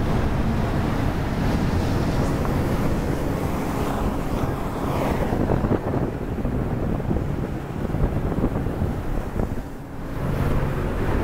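Ranger Tug R23 boat cruising fast on open water, with loud, continuous rushing water and wind buffeting and the engine's drone mixed underneath, no voices.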